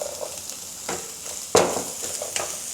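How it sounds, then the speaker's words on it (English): Carrot and snow peas stir-fried in a wok, a steady crackling sizzle broken by sharp bursts as the vegetables are tossed and stirred, close and fairly loud. "And stir fry it for a short while, for about a minute or two, until it is cooked"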